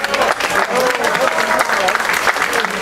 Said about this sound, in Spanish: Muchas gracias y un aplauso para todos ustedes.